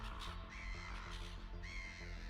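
Wild ravens caw in a loud, continuous, harsh chorus, several calls overlapping against a dense steady background.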